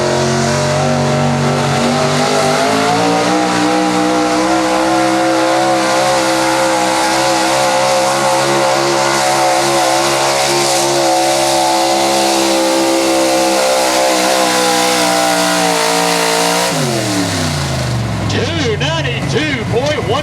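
A 1976 Chevrolet 4x4 truck with a 6200 small block engine roars loudly and steadily at a truck pull, its pitch climbing as it strains down the track, then abruptly dropping off near the end; an announcer talks over it.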